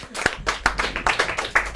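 A few people clap by hand, roughly eight or nine distinct claps in an uneven, lively rhythm, close and fairly loud, with a faint murmur of voices underneath.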